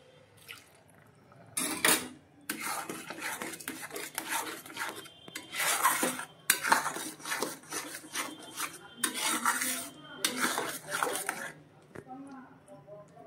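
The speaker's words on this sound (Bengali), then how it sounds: "এবার নাড়তে থাকবো" A spoon scrapes and rubs through mango semolina halwa with milk, ghee, cardamom, cashews and raisins in a pan, making repeated rasping strokes in uneven bursts, close and moderately loud.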